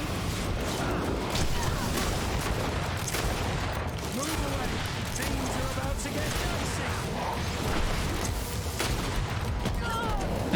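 Rapid gunfire and booming impacts from companion Afra during combat in the video game GreedFall, a dense continuous barrage of shots under a player's voice.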